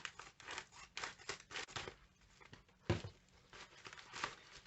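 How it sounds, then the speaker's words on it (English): Scissors cut open an Eyescream Beauty Box package with a run of close, crisp snips and rustles, pausing briefly before a final burst of cuts. "I have my handy dandy scissors just ready."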